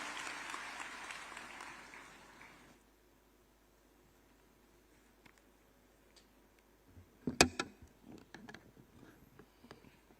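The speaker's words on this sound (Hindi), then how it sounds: "जोरदार तालियों से माननीय का स्वागत करें।" Applause from the crowd at a government ceremony handing agriculture department appointment letters to recruits, welcoming Chief Minister Yogi; dense clapping for nearly three seconds fades to near silence, followed by scattered clicks and ticks.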